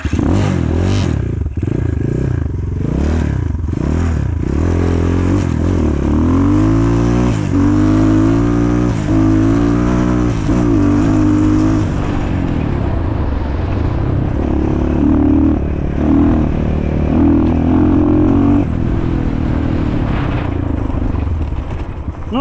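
A Shineray VXR 300 motorcycle with bald tyres on an asphalt test ride, its engine loud and close, revving and shifting through rising and falling tones with a steady rumble underneath.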